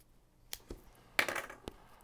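Scissors snip through the plastic wrap on bot card decks in a few quick, close, crisp cuts and crinkles, with one louder rustling burst in the middle, heard alone.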